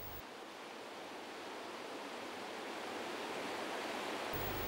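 Water pouring over the Ackerman Weir on the Wertach river, a five-metre drop, heard as a steady, dense rushing roar with no break, close and unvarying.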